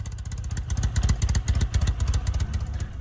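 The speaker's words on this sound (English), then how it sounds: "The Norton Dominator 88." A 1950s Norton Dominator 88 500cc twin motorcycle engine runs steadily nearby, a throaty, pulsing rumble with rapid firing beats and a faint metallic clatter on top.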